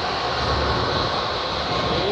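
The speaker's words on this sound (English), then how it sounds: "Let's just drop the top and just get this 385 train." A CP/CN freight train rumbles past near Milton, Ontario, with a broad, steady roar of rail noise that stays loud and close throughout.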